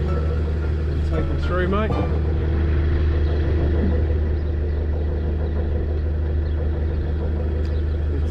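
A narrowboat engine idles low and steady with the throttle pulled back while crossing a narrow aqueduct in North Wales in winter, a constant close rumble with a voice briefly talking over it.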